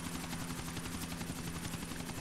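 A police helicopter in Grand Theft Auto IV: The Ballad of Gay Tony gives off a steady, fairly quiet whirring rotor drone with a fast, even pulse throughout, with no voices.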